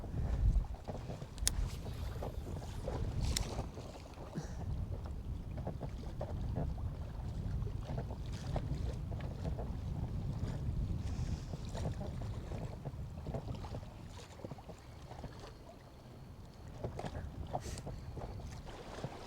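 Steady wind gusting and buffeting the microphone over open water at Beaver Lake in Derry, New Hampshire, with soft lapping and rustle underneath and no talking.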